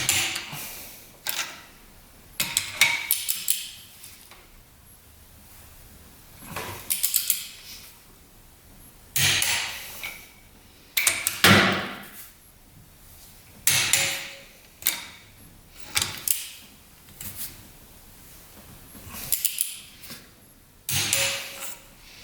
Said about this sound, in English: Second step is torque to 30 foot-pounds.